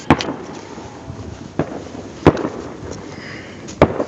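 Four sharp New Year's Eve firecracker bangs go off at irregular intervals outdoors, each a loud crack over a background of wind rumble.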